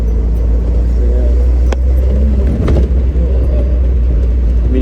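Cabin of a 43-year-old MG B GT on a motorway, with a steady deep engine and road rumble, a couple of light bumps and thumps, and occasional faint voices.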